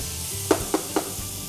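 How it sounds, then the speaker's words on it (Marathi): Tomato softens in a hot pan with a low, steady sizzle, broken by three quick scraping clicks of a spoon stirring in an even rhythm. "टोमॅटो थोडासा मऊसर शिजवून द्यायचा आहे।"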